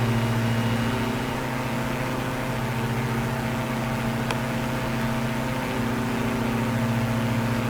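Light aircraft engine droning steadily as the plane climbs out after takeoff from Tempelhof in Berlin, a constant loud hum with no break.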